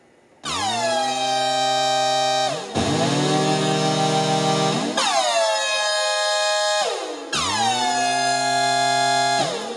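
A Waldorf Blofeld synthesizer plays four loud sustained notes in turn, each starting with a pitch sweep from an envelope-driven modulation that swoops down and settles, buzzy and bright, with no talking.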